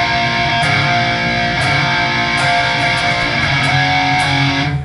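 Heavily distorted electric guitar chugs through loud, sustained power chords, an A on the fifth string hammered into B; a dense continuous wall of overdriven sound with no talking.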